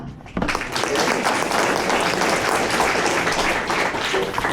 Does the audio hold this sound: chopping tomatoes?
no